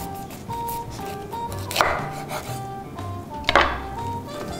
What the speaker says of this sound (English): I'm going to start by trimming off the head